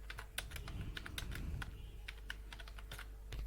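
Typing on a computer keyboard while filling in a GitHub profile page, a quick irregular patter of close, crisp key clicks that continues steadily without speech.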